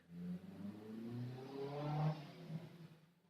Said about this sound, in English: Just as a car screams by.